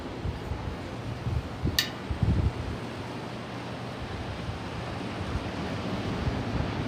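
Ocean waves at night heard from a balcony, a steady broadband rush of distant surf mixed with wind noise on the microphone, with a few brief handling bumps near the start.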